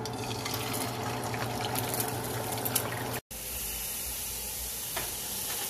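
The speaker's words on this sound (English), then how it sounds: "I'm gonna go ahead and fry my eggs." Eggs fry on a hibachi grill with a steady close sizzle and crackle that runs unbroken apart from one very brief dropout partway through.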